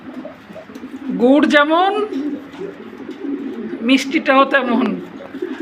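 Lahore fancy pigeons coo softly and continuously in the background while someone talks over them at close range.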